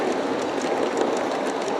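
A G-scale model train of Denver & Rio Grande Western cars, a long 40-car consist, rolls along its track with a steady, continuous rumble and rattle and no pauses.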